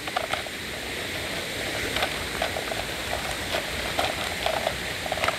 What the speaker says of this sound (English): And there's a somewhat of a tiny waterfall over there.